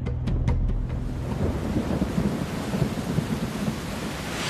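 Heavy rain pours steadily in the Amazon jungle, with a loud, close thunder rumble at the start and a constant dense hiss of downpour throughout.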